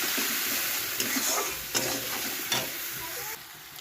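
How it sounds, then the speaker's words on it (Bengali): Spice masala with chili powder sizzles in a pan while being stirred, continuous frying hiss broken by a few distinct spoon or spatula scrapes about every second, close and fairly loud, no speech. "এবার একটু লঙ্কার গুঁড়ো দিয়ে দিচ্ছি সামান্য করে, জাস্ট কালারের জন্য। দিয়ে মশলাটাকে ভালো করে কষিয়ে নেব।"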